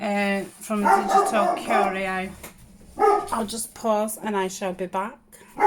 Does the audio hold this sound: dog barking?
yes